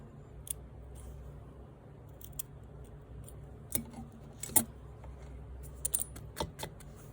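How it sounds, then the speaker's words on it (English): Scissors cut quilting fabric up to the seam line for a snowball block, producing faint, sparse snips and small clicks in an otherwise quiet room. "I'm going to cut my fabric up to the seam line."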